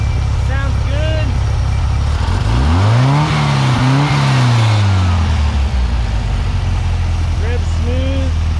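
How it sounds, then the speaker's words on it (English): A Volkswagen 1641cc engine running on a stand rumbles loudly up close, swelling through a smooth rev that rises and falls around the middle before settling back to a steady idle. "Rev's smooth. That exhaust is good and burned in."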